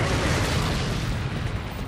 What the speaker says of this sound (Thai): ระเบิดไฟไปก่อนเลย